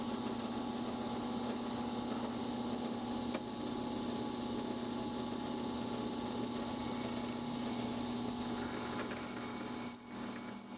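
A drill press runs steadily while drilling holes in Damascus knife scales, a constant motor whine and hum with a faint high-pitched cutting tone, winding down near the end.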